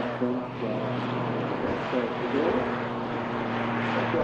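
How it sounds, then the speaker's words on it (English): An Aer Lingus Emerald Airlines ATR 72 turboprop taking off at Manchester Airport gives a steady propeller drone with a humming tone, moderately loud and continuous, while someone talks over it. "Off she goes, the Aer Lingus, Emerald Airlines, heading back home on the ATR 72."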